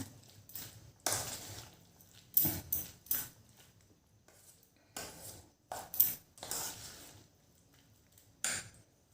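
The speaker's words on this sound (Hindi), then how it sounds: "तो फिर से इसको हम मिक्स कर लेते हैं।" A spoon stirs sandwich filling with black pepper in a bowl for a cheese, vegetable and mayonnaise sandwich, making scattered light clinks and scrapes in short irregular bursts with quiet gaps between them.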